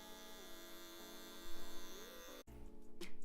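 Electric hair clippers run steadily with a close, buzzing hum during a barber's fade haircut, pitch wavering slightly as the blade works, then cut off abruptly near the end, followed by faint handling noise.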